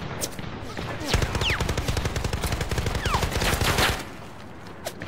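Tank and small-arms gunfire in the video game Zero Caliber 2, a dense run of rapid loud shots lasting a few seconds, then easing off with faint distant pops as a player speaks over the action.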